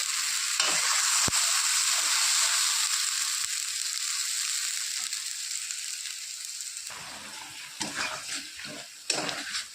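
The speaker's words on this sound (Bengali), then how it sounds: "ভালো করে সমস্ত মশলাগুলো আমি ভালো করে কষিয়ে নেব" Spices with tomato sautéed and stirred in a pan for a silver carp fish curry, a loud close sizzle with brisk scraping stirs that fades a little, then sharper spatula clatter near the end.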